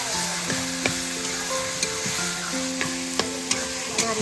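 Food being stirred in a frying pan, a steady close sizzle broken by regular scraping and tapping strokes of the spoon, with faint sustained tones in the background.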